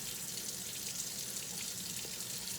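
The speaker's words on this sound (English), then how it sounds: "I'm going to use the scrubber of the sponge, the little water, and scrub around where there's any tough bits" Sponge scrubbing inside a pot with a little water, a steady wet hissing scrape with no clear strokes, close and fairly quiet, no talking.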